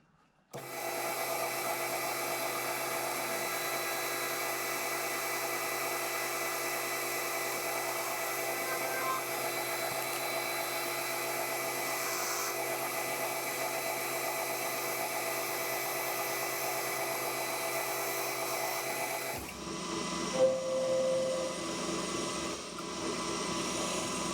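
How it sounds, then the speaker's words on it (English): Metal lathe running steadily as it chamfers the sharp edges of a machined part, a continuous loud whirring cutting noise for most of the stretch before it drops away and shifts to quieter shop sounds near the end. "I just want to chamfer this edge, chamfer that edge."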